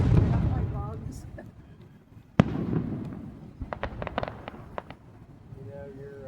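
Fireworks explode at a 250th anniversary celebration in Huntingdon, Pennsylvania. One sharp boom is followed by a quick cluster of crackling pops, with people talking throughout.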